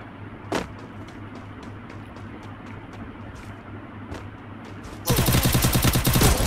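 Gunfire in a shooting video game: a few isolated sharp shots early on, then a sudden loud, dense burst of rapid fire near the end over a steady background hum.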